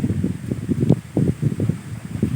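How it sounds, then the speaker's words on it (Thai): Strong wind blows around a home as the cool season begins, a rough, rumbling wash of gusts buffeting the microphone in uneven surges, with no voices. "ลมแรงครับที่บ้านลมแรง"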